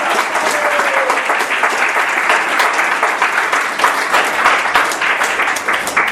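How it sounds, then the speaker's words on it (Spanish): A church congregation breaks into loud, sustained applause, many hands clapping in a dense continuous wash with some crowd voices mixed in, close and strong throughout. "Un aplauso al Rey de Gloria"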